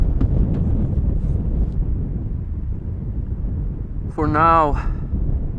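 Gusty wind at Amsterdam Schiphol Airport buffets the microphone in a steady low rumble beneath a man's ongoing speech, with a brief whining tone rising near the end.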